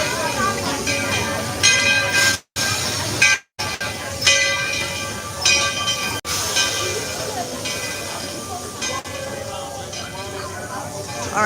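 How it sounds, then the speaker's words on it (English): Train rolling past at the Magic Kingdom, a loud, sustained rumble and hiss with ringing, bell-like tones, continuing throughout with a voice talking over it. "The train's coming through"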